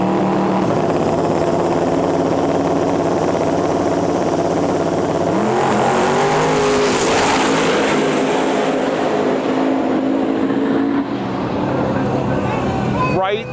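A silver Nova and a blue Mustang drag racing at night on a street-style track, engines roaring past with a rising, then falling sweep of revving and loud mid-pitched engine noise, while a voice talks over the racket.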